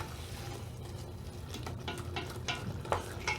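Tomato paste for couscous simmers and sizzles in a pot, a soft, steady crackle with occasional louder pops and a few stirring scrapes, fairly quiet and with nobody talking.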